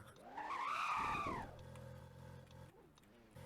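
A Ferrari in the Driving Empire racing game, its engine rising in a loud revving sweep that peaks and then drops to a lower, steady hum.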